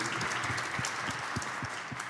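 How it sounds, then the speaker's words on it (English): Audience applause at a conference on a green, competitive and inclusive Europe, a modest spread of claps heard at a distance, fairly quiet and steady throughout. "Yeah, you can give applause."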